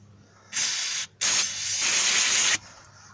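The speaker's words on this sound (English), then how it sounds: "I'm going to spray a little bit of cleaner on my rag." Cleaner sprayed onto a rag during a 2005 Nissan Sentra 2.5L cylinder head install: two close, sharp hissing bursts, a short half-second spritz followed by a longer one of over a second.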